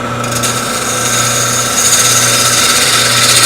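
A woodturning lathe gouge rides the bevel across a spinning wooden vase, giving a continuous close scraping hiss over the steady motor hum.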